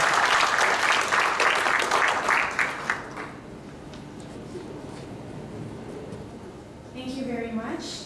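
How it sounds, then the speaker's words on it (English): Audience applause at a forum welcome ceremony, a dense burst of clapping for about three seconds that fades out, followed by quieter room noise and a voice beginning to speak. "A round of applause."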